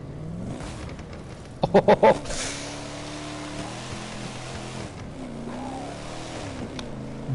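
Ford Mustang Boss 429 engine in The Crew 2 driving game, a close, loud drone that rises and falls through several rev sweeps, with a short burst of sharp clatter early on and a brief exclamation from a voice.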